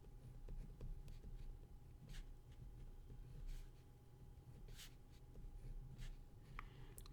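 Chalk or marker writing out logic premises during a math lecture, faint taps and scratches in short strokes over a quiet room hum, with no voices.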